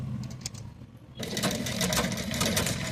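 Sewing machine stitching a non-woven shopping bag runs in a fast, buzzing burst, hesitating briefly before resuming louder and steadier, close and alone.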